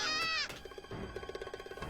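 A cat gives a drawn-out meow, then a series of quick, short rhythmic sounds follow, close and fairly quiet.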